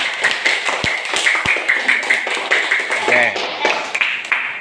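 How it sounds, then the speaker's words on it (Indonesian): Classroom of students applauding class leader candidates, a run of sharp close claps and taps in a brisk uneven rhythm, with a voice speaking briefly near the end. "tepuk tangan untuk calon ketua kelas kita semua"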